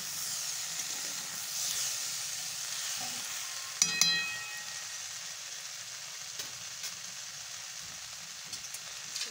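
Kalai dal mixture fries in a pan with a continuous bright sizzle and hiss, broken once by a sharper clatter of stirring midway, with no talk over it.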